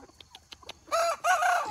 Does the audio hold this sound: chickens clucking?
yes